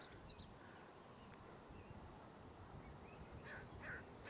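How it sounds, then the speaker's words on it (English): A few distant crow caws from about three crows ring out near the end over steady outdoor background noise, with faint high calls earlier. "3 crows on there."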